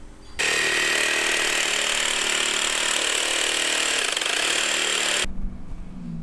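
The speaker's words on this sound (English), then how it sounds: "So as you can see, I cut this off, the whole starter bracket." A power tool cuts off the starter bracket on a Nissan 240SX being prepared for a V8 swap, screaming continuously and loudly at close range for about five seconds before stopping abruptly.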